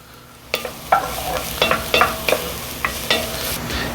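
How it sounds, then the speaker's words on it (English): Four cloves of chopped garlic frying in a pan for vegan cannelloni, a soft sizzle under repeated sharp scraping taps of a utensil stirring at a quick, irregular rhythm. "the first thing I gotta do is add 4 cloves of garlic chopped up"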